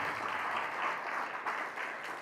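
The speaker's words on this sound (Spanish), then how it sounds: "Dele un aplauso al Señor." A church congregation applauds in a steady wash of clapping that holds for a couple of seconds, moderately distant and even.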